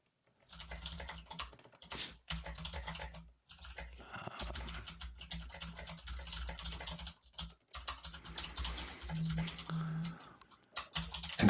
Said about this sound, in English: I'm literally typing the question in.